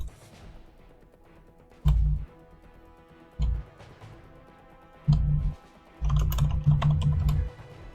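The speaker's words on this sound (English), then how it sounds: "If I can type." Bursts of fast keyboard typing on a computer while playing World of Warplanes, in several short clusters of rapid clicky keystrokes over a low background hum, with no talking.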